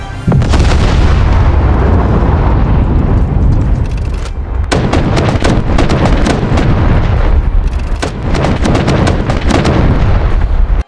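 Artillery strikes exploding in War Thunder Mobile, loud booming blasts with rumbling tails packed closely together, a short gap, then more rapid heavy explosions and crackling bursts close by.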